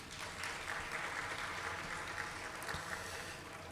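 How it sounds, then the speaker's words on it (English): Applause from the audience at a school community hearing, a steady patter of many hands clapping in a room, fairly soft, sustained for a few seconds. "Let's give her a round of applause."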